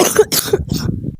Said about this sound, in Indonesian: Ternyata banyak juga yang lagi batuk